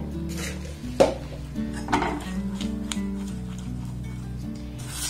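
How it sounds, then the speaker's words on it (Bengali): A spoon stirs milk and sugar in a pot as they thicken into a sweet reduction for a bread-and-milk dessert, giving a few soft scrapes and light clinks over a steady low kitchen hum. "এবার এটাকে কন্টিনিউ নাড়াচাড়া করে করে আমি একটা ক্ষীরে পরিণত করে নেব"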